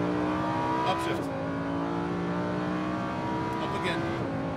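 A Lamborghini lapping a racetrack in Las Vegas holds a steady, loud engine tone that rises in pitch, dips briefly at each upshift, then climbs again. The roar is close and continuous.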